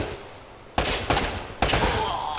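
Gunfire in the Uncharted video game comes as loud, sharp bursts of shots that break in suddenly after a quiet start, with rapid repeated reports close up.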